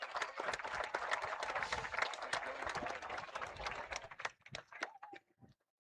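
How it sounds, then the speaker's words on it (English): Audience applausing Big Spring Athletics Hall of Fame inductees at a high school football game, a steady crowd clapping for about four seconds before thinning to a few scattered claps and stopping. "Let's give them another round of applause."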